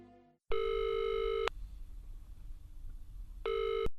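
A telephone rings with a steady electronic trill for about a second, goes quiet for two seconds, then rings again briefly, loud and close and with no talk.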